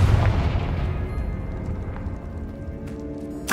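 A Confringo fire spell explodes in Hogwarts Legacy: a deep, booming burst at the start that rumbles and slowly fades, then a second sharp hit right at the end.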